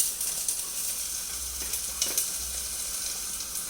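Onions sizzle steadily in hot oil with a pinch of sugar, a close, continuous crackle with brief stirring clatters now and then.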